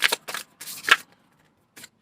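Tarot cards shuffled in quick bursts, three close riffles within the first second followed by a short pause and one brief final flick, loud and near with no talking.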